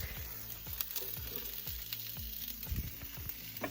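Onions frying in a home kitchen pan, a steady close sizzle with soft crackles and occasional stirring scrapes, no talking.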